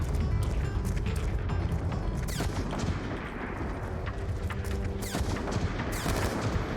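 Rapid bursts of gunfire in Call of Duty: Black Ops II crackle continuously, sharp shots layered over a dense rumbling backdrop of distant battle noise.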